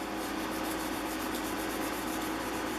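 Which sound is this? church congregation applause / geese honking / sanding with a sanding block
sanding with a sanding block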